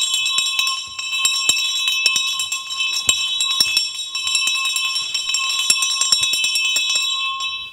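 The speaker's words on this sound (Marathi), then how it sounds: "पाटील, तिसरी बेल द्या." Third bell before a stage play begins, a bright electric bell ringing continuously for several seconds with a sustained metallic buzz, loud and near, no speech.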